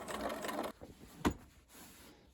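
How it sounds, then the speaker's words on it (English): A sewing machine stitching a second row on jeans, a short burst of rapid mechanical whirring followed by a quiet pause, a single sharp clunk and low faint mechanism noise. "And then I'm going to do a second row of stitching"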